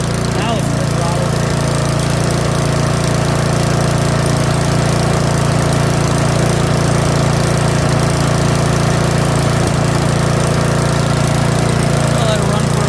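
A 179cc Yard Machines snowblower engine, a curbside find, runs at full throttle, a loud, steady, close droning roar with constant low rumble and no change in pitch throughout.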